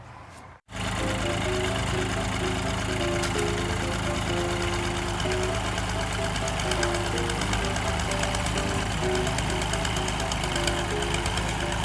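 A heavy diesel tractor engine runs loud and steady, with a rough knocking rumble throughout, as it pulls on a stuck PTO shaft.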